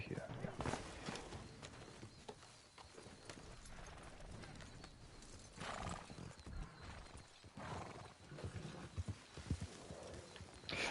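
Horse hooves clip-clopping in Red Dead Redemption 2 Online on Guarma, a faint, steady walking rhythm under ongoing talk and game ambience.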